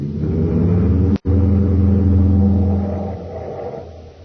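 A steady engine rumble from a car, low and continuous, with a brief cut partway through before the droning resumes and slowly fades.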